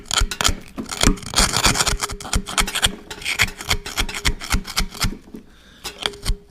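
An old screwdriver scraping and rasping deposits out of the water jackets of a Caterpillar D2 engine block, rapid rhythmic scratchy strokes close up, loud and continuous with brief pauses, no voices.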